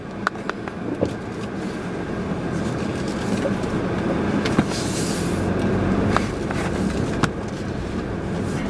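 Interior drive noise from a 2018 Subaru Crosstrek Limited, a steady broadband road and engine rumble with occasional small knocks and rattles from the cabin.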